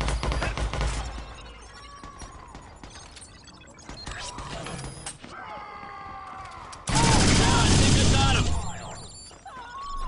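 Gunfire in an online match of Watch Dogs on PS4, with scattered shots and a louder burst of fire near the end, mixed with other game sounds and engine-like tones.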